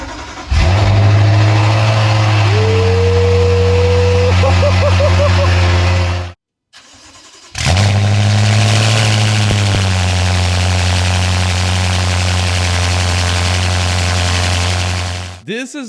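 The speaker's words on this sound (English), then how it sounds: "Let's hear this V8 twin turbo start up with the insane exhaust for the very first time." A twin-turbo V8 in a BMW M5 fires up close and loud, settling into a deep, rumbling idle through a loud exhaust, with a brief rev; it cuts out and restarts, then idles steadily again.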